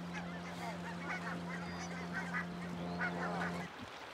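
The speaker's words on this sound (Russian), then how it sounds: "Сколько гусей" A flock of geese on an island honking repeatedly at a distance over a steady low boat engine drone that cuts off near the end.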